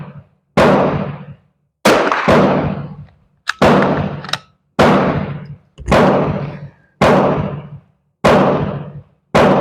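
Sharp, loud Beretta Olympia pistol shots crack out one at a time, nine or ten in an uneven steady rhythm, each followed by a short ringing decay and brief silence before the next.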